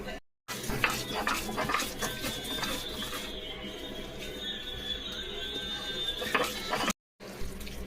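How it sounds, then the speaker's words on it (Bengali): Boiled bottle gourd leaves ground together with cumin and black cumin, a steady mechanical whirring grind lasting about six seconds, with brief stops near the start and end. "সিদ্ধ লাউ পাতাটা আর জিরে কালা জিরে সব একসাথে বেটে নেবো।"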